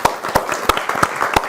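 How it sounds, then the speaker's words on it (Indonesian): Scattered studio applause in a television talk show, a handful of distinct sharp claps spaced irregularly over a soft bed of quieter clapping, moderately close. "Ya, tepuk tangan dong."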